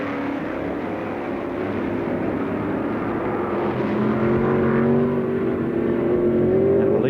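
Formula 5000 race cars lapping the Warwick Farm circuit in the 1973 Tasman Cup, a steady engine drone with rising and falling pitch as cars pass at moderate distance, continuous throughout with no talk.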